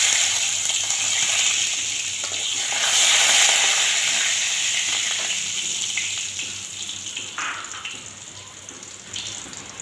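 Chopped garlic fries in hot mustard oil with a loud, hissing sizzle that swells and then slowly settles, close and steady, with no talking.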